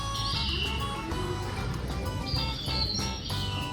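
Birds chirping inside the Dubai Butterfly Garden, a dense, steady chorus of high calls running for a few seconds with no talk over it.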